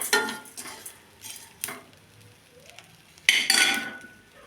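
Curry leaves and coriander seeds dry roast in a pan, with a spatula scraping and stirring in quick separate bursts, a few light metallic clinks, close by and fairly quiet, with no talking.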